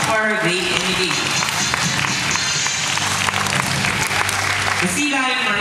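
An audience at a marine park show claps after a performer's seal imitation, with the applause running continuously under loud background music and some voices.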